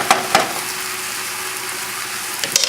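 Eel sauce sautés in a hot pan, a close, steady sizzle broken by a few sharp crackles and stirring clicks near the start and end.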